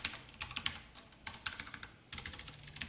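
Quick, light keystrokes tap out code on a computer keyboard in bursts, close and clear, with short pauses between runs and no voices.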